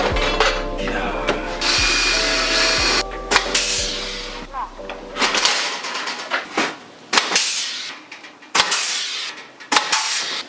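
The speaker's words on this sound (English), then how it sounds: "So just gonna go ahead, rivet this thing up." Pop rivets being set by hand into a DIY Mazda Miata ducktail spoiler styled after a Porsche 911 GT3 RS: a run of sharp, close snapping clicks and clacks at irregular intervals, over a low steady hum during the first half.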